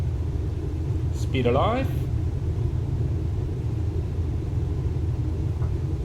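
A Cessna 172 engine at takeoff thrust in Microsoft Flight Simulator, heard as a steady low droning rumble throughout, with a brief spoken cockpit callout over it.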